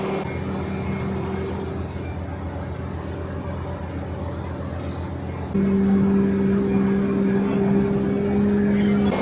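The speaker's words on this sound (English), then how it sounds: "kind of have to pull it with the skid steer" Skid steer engine droning steadily at close range while pulling a machine out on a farm, stepping up to a louder, higher-revving hum partway through.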